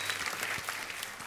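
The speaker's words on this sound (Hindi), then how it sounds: "तो एक बार जोरदार तालियां हो जाए पहले उनके लिए" Enthusiastic studio audience applause on a comedy talk show, a dense steady wash of many hands clapping at full volume throughout.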